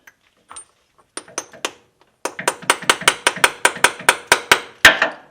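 Metal hammer strikes on a staked nut of a third-generation Toyota 4Runner transfer case, working in a cramped space: a few scattered taps, then a steady run of about a dozen sharp, ringing blows, close and loud.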